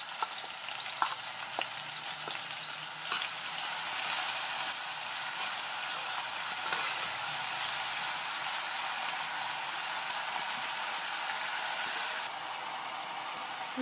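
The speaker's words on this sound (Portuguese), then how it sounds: "já deu uma fritada na cebola" Garlic, onion and salt frying in a pan, a loud, steady close sizzle lasting throughout with a few faint clicks of stirring, no voices.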